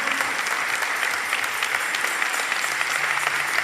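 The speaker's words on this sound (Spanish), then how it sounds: "Fuerte el aplauso al Señor." A church congregation claps loudly and continuously during a worship service, the dense applause holding steady for several seconds.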